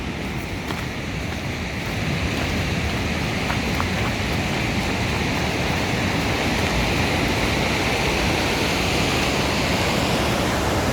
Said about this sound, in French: Il y a un bon débit d'eau là.